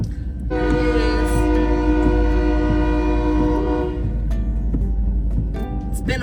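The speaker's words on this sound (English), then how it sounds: "It's been a while since I got stuck while a train is crossing." Train passing a level crossing, a loud sustained horn blast lasting several seconds over the heavy rumble of rolling cars, with clanking continuing after the horn stops.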